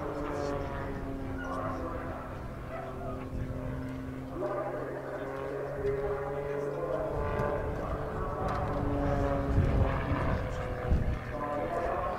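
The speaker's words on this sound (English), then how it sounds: "Look carefully at this barrel roll now to see what I mean about the tutor's slower roll rate" A Tutor training aircraft's propeller engine drones during a barrel roll at the Southport Airshow, a steady tonal hum with shifting pitch that swells slightly toward the end, heard at a distance under a narrator's voice.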